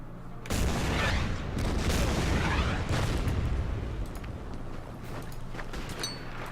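Artillery in the WWII strategy game Order of Battle, during the Battle of Kursk, opens with a sudden heavy blast. It is followed by a sustained roar of booming fire and explosions that slowly fades toward the end.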